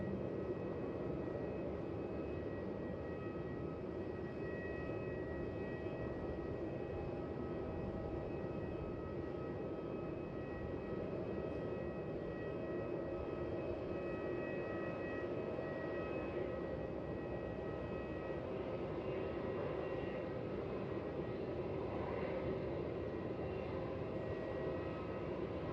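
A Singapore Airlines airliner touching down at Melbourne Airport, heard as a long, steady, moderately distant engine roar with a low rumble that holds unchanged throughout.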